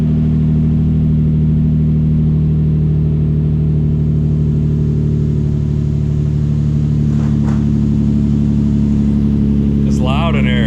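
Interior cabin drone of a car driving on the road after solid differential bushings were fitted: a loud, steady low engine and drivetrain hum with rumble throughout, and brief talk near the end.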